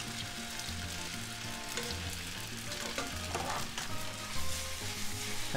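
Garlic prawns and linguine are stir-fried in a hot pan, with a loud, continuous sizzle and tossing rustles close by, while steady background music plays underneath.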